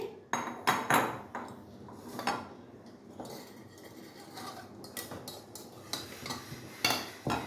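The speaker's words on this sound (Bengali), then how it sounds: "আমি আলুগুলো এবার একটা পাত্রের মধ্যে ছাঁকনি করে তুলে নেব" Boiled potatoes lifted from a pot into a bowl with a metal strainer, giving repeated clinks and scrapes of utensil against cookware, close and fairly quiet, in irregular bursts.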